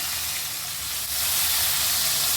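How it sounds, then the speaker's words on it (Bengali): A large onion, finely chopped, fries in a pan until browned for a traditional Bengali fish-head rice curry, giving a steady, close, broadband sizzling hiss that grows slightly louder partway through, with no talking. "পেঁয়াজটা একটু লাল করে ভাজবো"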